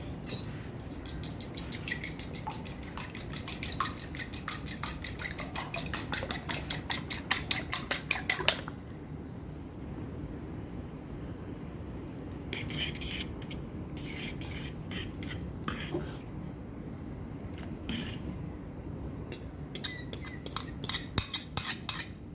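A metal utensil clinks rapidly against a pot while egg is stirred into misua soup, in steady close rhythmic taps that pause, then return in shorter bursts, with no talking.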